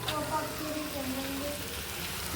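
Spice paste sautéing in a pan gives a steady, close frying sizzle with a low crackle beneath, unbroken for the whole stretch and carrying no talk.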